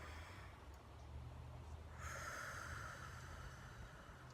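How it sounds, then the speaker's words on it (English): Slow breath drawn in through the nose and released out through the mouth, one long soft airy breath rising midway and sustained, close and quiet over a low steady hum. "Another breath in."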